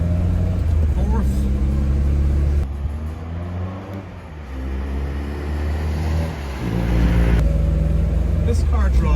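A 1970 Triumph Herald 13/60 Convertible drives along, its small engine humming and rising as it accelerates through the gears, heard from inside the car with someone talking over it.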